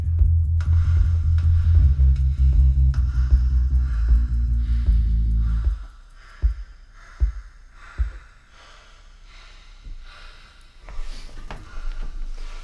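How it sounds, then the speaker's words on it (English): Hand clap processed through Bricasti reverb: loud dense low-heavy wash at first, then separate sharp claps each trailing a short reverberant tail, spaced irregularly, with quieter brighter hits toward the end and no voices. "so I've got a hand clap sound going on"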